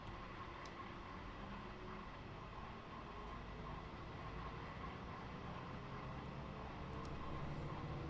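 A regional train on the Pegnitztalbahn from Nuremberg to Bayreuth rumbles at speed from the driver's cab, a steady low drone of motor and rails, faint and continuous with no talk.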